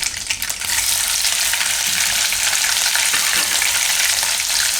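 Green chillies hit hot oil already crackling with mustard seeds and cumin, bursting into a loud, steady, bright sizzle after a brief quieter start, continuous and close with no voices.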